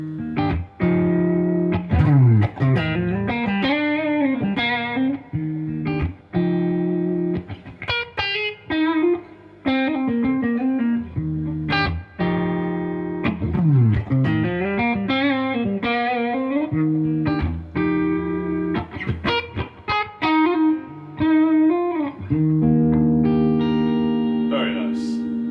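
An electric guitar, a PRS SE Limited Edition Maple Custom 24 on its middle pickup position, plays melodic phrases and chords with a clean, slightly hollow tone and a touch of echo, sounding close and alone.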